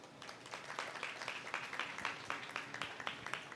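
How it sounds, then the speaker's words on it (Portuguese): Audience applause welcoming someone speaker at a talk on personal branding and reputation, a steady run of many hands clapping at moderate volume for a few seconds, with no speech over it. "recebam com uma salva de palmas"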